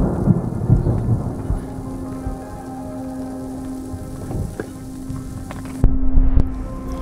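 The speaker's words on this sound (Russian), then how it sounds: "Я не мог подумать, что град может так бить по ушам сильно" Heavy hail pounding steadily with rumbling thunder during a storm on Mount Aragats, Armenia, loud and close, a sharp crack and burst near the end.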